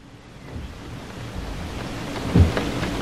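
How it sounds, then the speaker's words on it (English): Steady broadband hiss of rain falling outdoors during a small thunderstorm in Bradford, UK, with a brief low thump partway through that could be a faint distant rumble. "The rain is coming down now."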